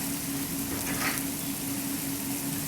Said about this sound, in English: We'll get our pan ready for the mushrooms and our little spring onions.